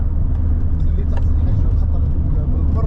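A car drives along a road on the route from Oran to Bechar in Algeria, a steady loud rumble of engine and tyres inside the car with no break.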